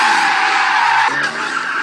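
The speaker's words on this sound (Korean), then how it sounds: "미친 듯한 운전 실력으로 드리프트를 시전한 뒤 통행료를 던지고 질주합니다" Car drifting through a toll gate at speed, its tires producing a loud sustained high-pitched skid and squeal that dips briefly before continuing, no talk.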